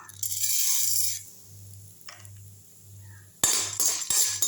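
Dry chana dal and urad dal are dropped into a frying pan with oil on a kitchen stove, a quick rattling patter of lentils at the start and again near the end over a faint low hum.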